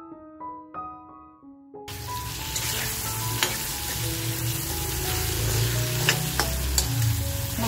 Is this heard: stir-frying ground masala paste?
yes